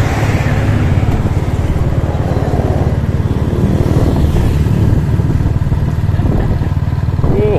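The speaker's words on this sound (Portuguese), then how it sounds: "A nossa caminhada é em cima da moto." A 125 cc motorcycle rides steadily through town streets, its engine droning loud and close throughout with road noise and wind, and no clear talk over it.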